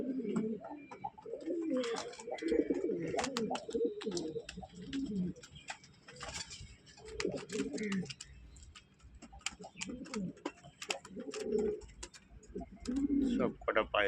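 Several pigeons coo in soft, repeated low bursts at close range, with scattered ticking clicks and light rustling between the calls.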